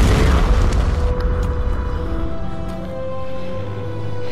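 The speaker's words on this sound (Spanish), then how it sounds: "Todo va a explotar, todo va a explotar." A large explosion in the Tomb Raider video game, a heavy low boom that rumbles at the start and then fades into sustained roaring debris and rumble, with no talk over it.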